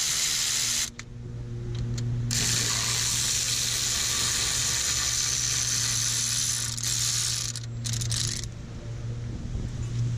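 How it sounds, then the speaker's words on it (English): A hand ratchet clicks rapidly and steadily while loosening the 13mm caliper bracket bolts on the rear brakes of a 2005-2010 Pontiac G6, close and continuous with brief pauses. "Remove the bolts holding the caliper bracket to the knuckle."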